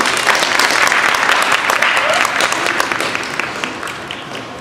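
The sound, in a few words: applause for a singer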